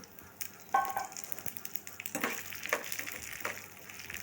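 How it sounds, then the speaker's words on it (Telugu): Tempering spices with broken dried red chillies pop and crackle in hot oil over a low flame for gongura pickle, giving a light, uneven sizzle with scattered sharp spits and soft stirring. "గ్యాస్ని స్లిమ్లో పెట్టుకొని పోపును వేయించుకోవాలి"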